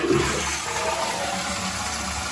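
A newly fitted toilet flushes during a bathroom plumbing job, a sharp gushing rush of water that starts loud and settles into a steady swirling drain, close and alone without talk.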